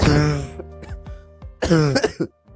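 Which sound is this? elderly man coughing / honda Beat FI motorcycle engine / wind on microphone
elderly man coughing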